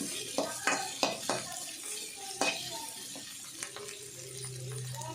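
Whole spices such as cloves fry lightly in a pan for Andhra-style spicy chicken curry, a soft steady sizzle under several quick stirring scrapes and clinks against the pan, close by and moderately quiet.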